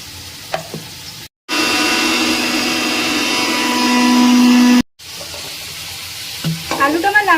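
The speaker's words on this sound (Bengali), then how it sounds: "ওই তেলেতেই আমি কেটে রাখা আলুগুলোকে অল্প নুন হলুদ মাখিয়ে আমি একটু ভেজে নিচ্ছি।" Cut potatoes coated in salt and turmeric fry in hot oil, giving a loud, steady sizzle for several seconds, with brief clatter from stirring before and after.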